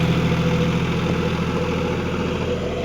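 A John Deere 5050D 4WD tractor runs with a 72-blade rotavator tiller while preparing a seedbed, a loud, steady, close engine drone with a rumbling low throb and no talk.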